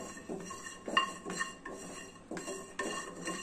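Grated coconut being roasted and stirred in a pan for brinjal curry, heard as a close rhythm of clinking scrapes of a utensil against the pan, roughly every half second, with no talk.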